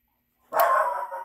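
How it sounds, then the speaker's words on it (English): A dog lets out one short, muffled bark at a door indoors, heard after a second of near silence and fading quickly. "She's absolutely nuts at the door barking."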